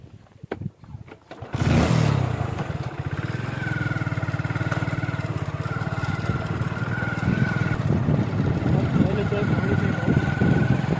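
A motorcycle engine starts up and runs steadily on a narrow rural track in Gujarat, a loud continuous droning rumble close by after a short burst of clatter at the start.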